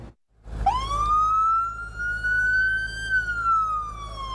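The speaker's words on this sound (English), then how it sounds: "For many people, the sound of sirens and the sight of flashing lights" A police siren wails steadily, rising and holding a long tone, fairly close and loud with no talking.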